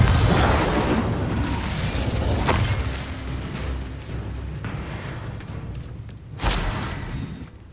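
Confringo spells explode in Hogwarts Legacy on PS5 during a goblin fight, with a dense, loud rumble of blasts and battle noise, then a sharp, punchy boom about six seconds in.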